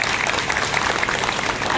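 An audience at a talk about construction steel rebar claps together in a thick, steady burst of many hands, loud and close, with no speech over it.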